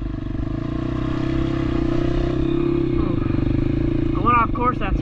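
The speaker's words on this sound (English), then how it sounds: "We're going to be doing a whole bunch of free riding all around my property, ripping it up in the trails" A Honda CRF150F dirt bike idles and runs on private property trails with a steady, close, pulsing engine drone, and someone speaks briefly near the end.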